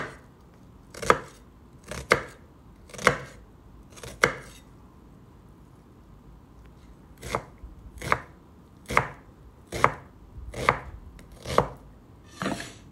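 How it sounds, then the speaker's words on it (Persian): Knife chopping two onions into fine dice on a board, a series of about a dozen crisp, close thuds in two bursts separated by a short pause, with no talk. "2 تا پیاز رو مثل من نگینی خورد کنید."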